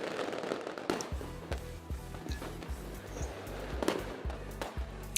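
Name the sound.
fireworks sound effect played on a stream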